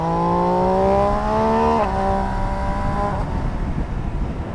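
An MV Agusta Brutale 800 RR motorcycle accelerates hard through the gears with clutchless upshifts, a loud rising engine whine broken by a quick shift before climbing again, then fading as it pulls away.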